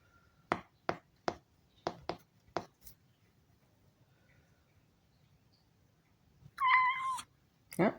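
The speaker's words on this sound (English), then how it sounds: "Oh, my cat found me. Hello, kitty." A house cat gives a single short meow near the end, close and clear, after a run of sharp squeaks from a creaky floor during a bodyweight workout.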